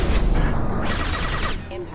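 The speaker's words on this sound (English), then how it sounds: "I'm gonna switch to my submachine gun and just go ham on him" Submachine gun fire in Mass Effect 2, a dense and loud continuous rattle of rapid shots lasting about two seconds, mixed with blast noise and talking underneath.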